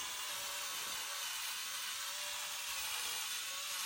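An abrasive wheel grinds old RTV sealant off a MerCruiser 5.7 marine engine cylinder head, a steady high-pitched whirring scrub held close and loud throughout without a break, no voices.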